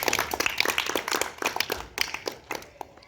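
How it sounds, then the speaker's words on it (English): Audience at a school debate at Jejoses Academy clapping, a brief round of many hands beating in quick, uneven bursts that taper off toward the end. "Round of applause for her."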